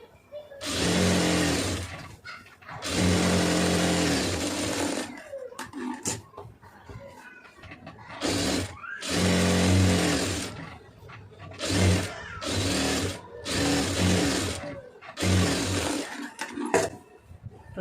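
Sewing machine stitching down a quarter-inch folded hem on fabric, running in several loud bursts of steady whirring separated by short pauses as the cloth is repositioned.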